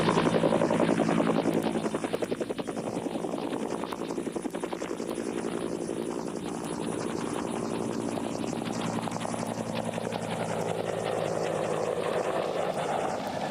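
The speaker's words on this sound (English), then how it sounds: "Sea Cobras and their improved variants form the backbone of Marine attack helicopter" A Marine Sea Cobra attack helicopter flies close and loud, its rotor chop and turbine whine forming a sustained, pulsing roar that hardly varies throughout.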